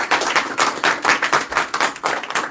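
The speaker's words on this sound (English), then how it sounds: "So let us give one round of applause finally." Audience round of applause after a talk on fake versus genuine gurus, brisk and dense clapping from a gathered crowd, nearby and lively, with slight pulsing rhythm through its short span.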